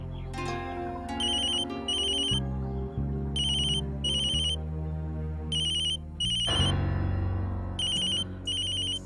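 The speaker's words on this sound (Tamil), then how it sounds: "இந்த கோபால் எதுக்கு அவன் மறுபடியும் ஏன் ஃபோன் பண்றான்?" A telephone ringtone plays alone for several seconds, a steady electronic melody with short bursts of high chirping tones repeating in regular pairs, at a moderate, clear level.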